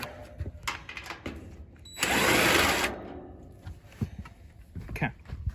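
A powered screwdriver or drill whirs steadily for about a second while backing screws out of a Rheem fan blade assembly, loud and close, surrounded by quieter handling clatter.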